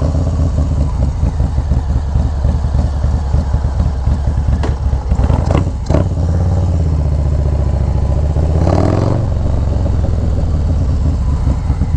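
A Harley-Davidson Low Rider ST motorcycle engine runs loud and close throughout, a steady deep rumbling idle with a brief throttle blip near the middle.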